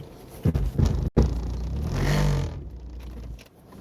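A car being parked, its engine revving briefly with a few clunks and a rising mid-range engine swell before settling quieter, heard close up.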